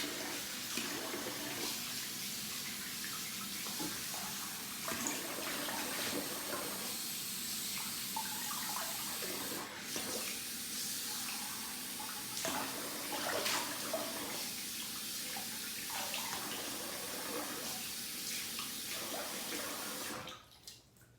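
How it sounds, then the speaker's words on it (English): Tap water runs steadily while someone rinses their face after a double-edge safety razor shave, a continuous close splashing flow with brief interruptions, stopping abruptly at the very end. "So I'm gonna rinse the face."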